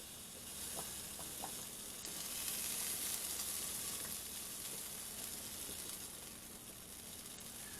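Chicken pieces for chicken francaise fry in a crowded pan, giving a continuous dense sizzle with small pops, close and moderately loud, and no voices.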